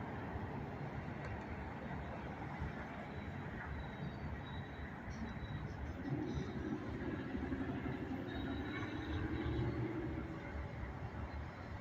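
A freight train crosses a road some distance away at night, producing a steady low rumble of rolling wagons with faint wheel squeal and clatter that holds evenly throughout, fairly quiet and with no talking.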